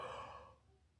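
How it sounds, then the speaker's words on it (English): A soft, breathy exhale trails off quietly, a drawn-out yawn fading into near silence. "Sorry, yawn."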